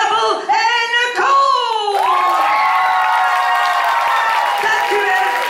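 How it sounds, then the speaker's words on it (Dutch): Audience at a school playback show cheering and whooping, with children shouting and scattered clapping; loud, sustained crowd noise with high-pitched voices throughout. "Mag ik een ongelooflijk daverend geweldig applaus voor Grabbel en Co?"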